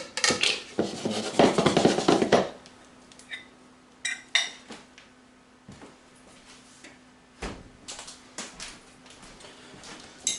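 Batter-dipped onions tumble into a bigger bowl with a wet, clattering rush, followed by scattered light clinks and taps of utensils against the bowl in a quiet kitchen.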